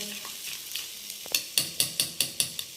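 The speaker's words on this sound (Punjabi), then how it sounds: "ਇੱਧਰ ਆਪਾਂ ਨਾ ਮਲਾਈ ਆ ਜਿਹੜੀ ਇਹਨੂੰ ਚੰਗੀ ਤਰ੍ਹਾਂ ਫੈਂਟ ਲੈਂਦੇ ਆ" Cream (malai) is whisked in a bowl: quiet stirring at first, then about seven quick, evenly spaced scraping strokes.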